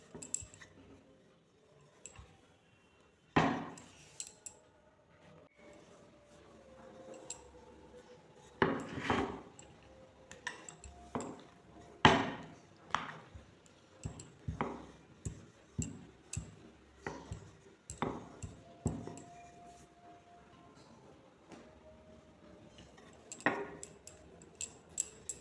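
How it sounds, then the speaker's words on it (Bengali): Stuffed pea kachori dough being rolled out slowly and gently by hand, giving soft irregular taps, knocks and light squishing sounds of the rolling pin on the board, close and fairly quiet, with no speech. "খুব আস্তে আস্তে বেলতে হবে, যেন পুর বেরিয়ে না যায়"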